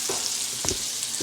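Eggs and Vienna sausage fry in a Pioneer Woman pan, giving a steady, close sizzle with a few soft stirring scrapes and no talking.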